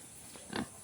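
A single short, low pig grunt, brief and fairly faint, over quiet background noise.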